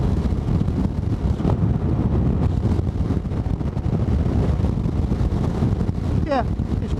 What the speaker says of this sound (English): Yeah, it's breezy.